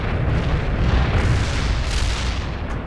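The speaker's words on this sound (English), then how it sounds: "Barrage hit for full effect." An artillery barrage in the real-time strategy game World in Conflict: loud, continuous rumbling explosions that blur into one dense, low roar throughout.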